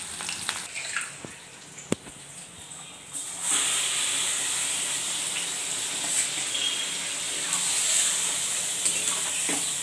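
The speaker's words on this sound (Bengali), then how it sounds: "এবার একটু গোটা গরম মশলা তেলের মধ্যে দিয়ে নিয়েছি" Whole garam masala spices dropped into hot oil, a steady bright hiss and sizzle that starts suddenly after a few quiet seconds with faint clicks, then holds close and even to the end.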